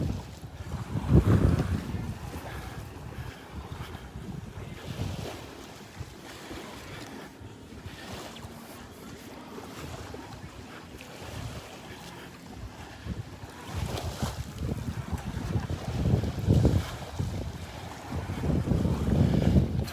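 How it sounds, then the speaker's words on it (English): Steady wind roars past the microphone on the beach at Delnor-Wiggins, with surf washing in beneath it. The gusts swell louder toward the end, and no one speaks. "Walking into a good breeze now. The breeze is really starting to pick up."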